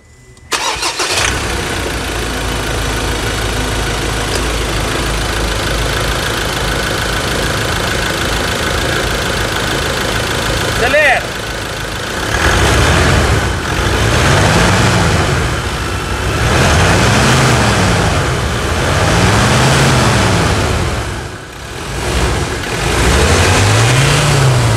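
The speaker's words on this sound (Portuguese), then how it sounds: "Vamos escutar essa melodia agora do motor Duratorque da Ford." A 2019 Ford Ranger's 2.2 Duratorq diesel engine cranks and fires about halfway through, settling into a loud, close idle, then revs up and down in four or five rising and falling sweeps.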